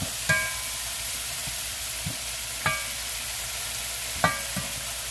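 Minced garlic, a couple of teaspoons, sizzling in very hot oil for a stir-fry, a steady broad hiss with a few sharp clicks of a utensil against the pan.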